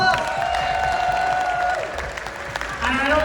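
Festival audience applauding a woman called up to the stage, a steady wash of clapping with some cheering and voices talking over it.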